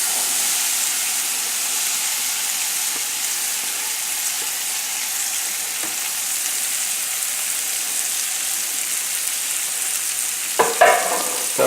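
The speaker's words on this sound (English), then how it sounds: "we're going to saute onions." Onions sauté in butter in a pan for a tilapia dish, producing a continuous close, hissing sizzle that stays even throughout, with a brief clatter of a utensil near the end.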